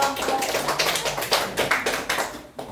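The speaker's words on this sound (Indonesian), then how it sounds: "kita berikan aplaus dulu untuk" A classroom group gives applause for the final group, a burst of many hands clapping in quick irregular rhythm that fades out near the end.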